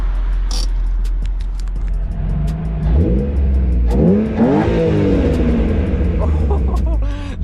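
A BMW E36 M3 fitted with Raceline headers crackles and pops through its exhaust, sharp bursts over a loud, rising engine rumble with revs swelling and falling close by.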